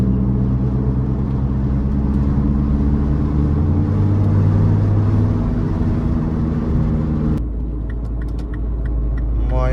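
A tuned Mini Cooper S engine drones steadily while driving, a close, continuous low rumble that swells slightly before dropping to a quieter idle-like hum near the end.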